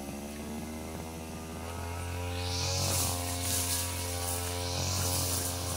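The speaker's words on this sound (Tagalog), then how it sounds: "Yung grass cutter." Grass cutter engine running outdoors on a farm plot, a steady droning buzz that rises to a harsher, louder whine partway through, with no talking.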